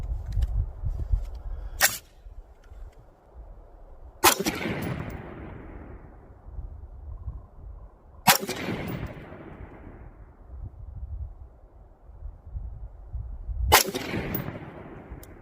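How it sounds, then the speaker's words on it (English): Rifle shots ring out during a test of a Gideon Optics Guardian 1-10x28 scope, three sharp loud cracks spaced seconds apart, each trailing off in a rolling echo, with an earlier short click and quiet outdoor background between them. "there was our 3 shots at 300"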